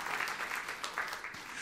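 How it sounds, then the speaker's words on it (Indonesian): Congregation clapping during a church sermon, a fairly quiet, even patter of applause with a faint voice beneath it. "Tepuk tangan yang meriah untuk kemuliaan Tuhan."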